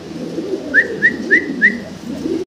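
Fancy exhibition pigeons give four short, evenly spaced coos close by over a steady low background rumble.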